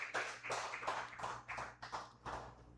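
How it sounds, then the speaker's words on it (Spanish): Small congregation at a Wednesday church service clapping in praise, a handful of rhythmic, distinct claps in quick bursts, fairly faint over a low hum. "Dale un fuerte aplauso a nuestro Dios."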